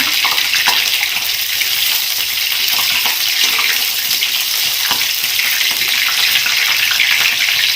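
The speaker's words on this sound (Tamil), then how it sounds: "இஞ்சி கொஞ்சம் நல்லா பொரியட்டும்." Ginger, green chili and chili flakes sizzle in hot oil, a loud, dense, continuous hiss and crackle held at an even level throughout, close to the pan, with no voices.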